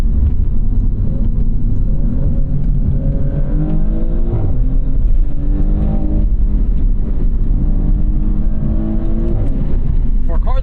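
A 2024 Maserati GranTurismo Trofeo in Corsa mode accelerates hard with a loud, close engine roar that climbs steadily in pitch, broken by a brief dip where the ZF gearbox shifts, while a voice talks over it.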